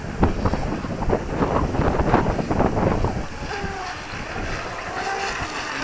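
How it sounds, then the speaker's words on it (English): Wind gusts over a microphone by open water where an electric RC tunnel-hull boat with an outboard is run, a broad steady roar with a few brief tonal whines mixed in. "And the wind's coming."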